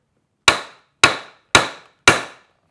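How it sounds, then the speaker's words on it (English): A hammer strikes a socket to drive out a 6.0 oil cooler, four sharp metallic whacks at an even pace of roughly one every half second, close and loud with nothing else heard. "So you just put that socket on there and give it a couple of whacks"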